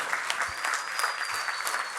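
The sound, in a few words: audience applause at a mushaira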